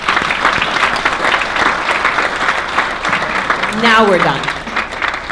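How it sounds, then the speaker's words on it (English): Loud applause from an awards-event audience honoring FDU at the New Jersey Family Business of the Year Awards, steady clapping for several seconds with a voice speaking briefly over it. "I think FDU gets a round of applause."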